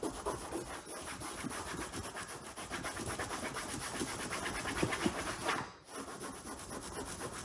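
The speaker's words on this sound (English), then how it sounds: "So get this black spot here. Scrub it a little bit." Scrubbing at a black spot on the surface of a 1998 Eclipse GSX: quiet, continuous rhythmic rubbing strokes, back and forth, with a brief pause near the end before the scrubbing resumes, no voices.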